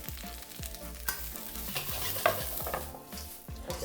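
Ginger, garlic, onions and carrots are stir-fried in a pan, with a quiet sizzle under rapid, rhythmic scraping and tossing strokes of a spatula, heard up close.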